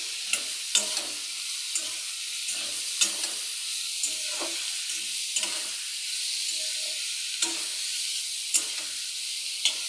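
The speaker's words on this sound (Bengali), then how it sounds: "এদিকে তেলটা বসিয়ে দিয়েছি, এখন আমি এগুলি ছেড়ে দিচ্ছি। একটু ভেজে নেব আমি।" Fish fat and pieces of fish go into hot oil and fry with a steady broadband sizzle, broken by small pops and the clink of stirring throughout, without any talk.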